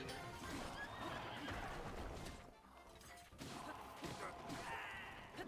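A horse whinnies loudly amid clattering hooves and crashing impacts in Legend of Zelda: Breath of the Wild, a busy, close scene with a brief lull midway.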